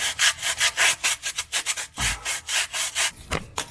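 Sandpaper scrubs burnt plastic residue off a drift car's throw-out bearing part, a close, loud run of quick rhythmic rasping strokes with brief pauses and no talk.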